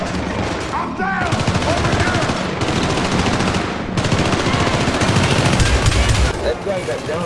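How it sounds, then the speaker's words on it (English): Heavy automatic gunfire from the co-op shooter game Syndicate rattles almost without a break, loud overlapping bursts from several weapons on a New England mission, with players talking over the din. "four people are shooting at me"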